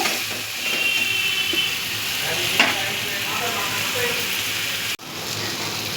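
Ash gourd curry stirred in a pot, a steady close sizzling hiss with soft scraping through the stir, then a brief dip as the lid goes back on near the end.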